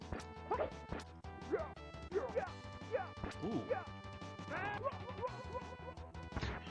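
Punch impacts from the Fatal Fury fighting game land in quick repeated bursts over game music and effects, with a player's short exclamation.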